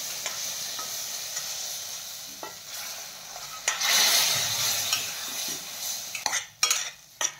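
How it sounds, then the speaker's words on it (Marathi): Roasted semolina being stirred with milk in a pan for prasad sheera, a steady close sizzle with spoon scrapes and clinks, a louder bubbling surge midway and a few sharp scraping strokes near the end. "दूध छान मिक्स करून घेऊयात।"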